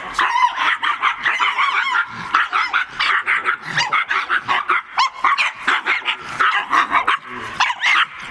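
Reactive dogs bark rapidly and repeatedly, close and loud, with yips and growls mixed into a frantic, overlapping volley.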